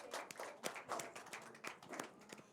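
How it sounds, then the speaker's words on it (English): Faint, scattered hand clapping, a handful of irregular claps from a small, distant crowd. "big round of applause, Jackie DiMaggio."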